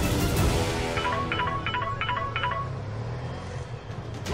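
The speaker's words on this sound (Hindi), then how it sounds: "आप एक बार राधिका को फोन करके पूछिए ना कि वो जा कहाँ रही है।" A phone number being dialed: a quick run of about seven or eight keypad tones, evenly paced, over background noise and faint voices.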